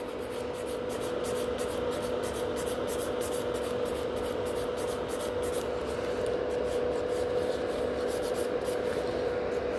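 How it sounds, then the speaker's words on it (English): Gel nails on a salon manicure, clear gel over glitter on a fiber gel rebalance, being filed with a nail file, giving a steady, continuous close-up rasping and rubbing throughout without pauses. "I can file it without of risking that I'm going to overfile the glitter or file it away."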